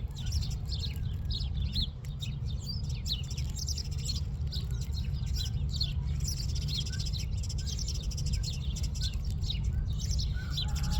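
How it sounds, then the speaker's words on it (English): Birds chirp and call busily overhead outdoors, a steady stream of short tweets over a constant low rumble, with no talking. "Sounds like these birds are fighting up here."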